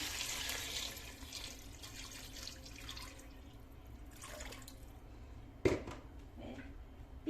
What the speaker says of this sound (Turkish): Önce bu 2 litre suyu ekliyorum.